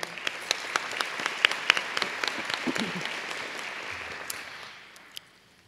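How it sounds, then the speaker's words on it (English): A room full of chamber of commerce members applauding at an awards event, brisk clapping with a few sharp individual claps on top, tapering off and fading out over the last second. "you need to give yourself a round of applause"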